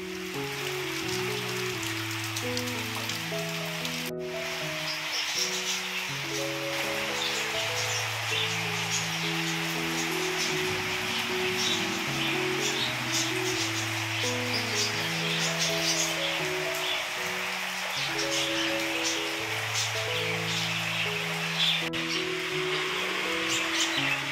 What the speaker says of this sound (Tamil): நல்லா மழை பெஞ்சிட்டே இருக்குது